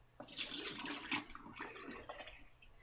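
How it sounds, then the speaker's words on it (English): Water running from a tap over hands being rinsed of slick herbal soap, a steady broadband splashing that starts abruptly and stays close and fairly loud throughout, with no talking. "I'm just going to let me rinse my hands"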